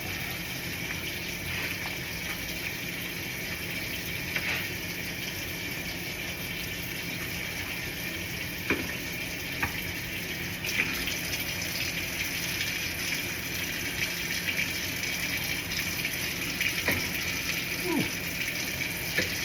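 Hot water runs steadily from a tap for soapy washing during a mock decontamination, a continuous rushing hiss with a few faint clinks and knocks mixed in.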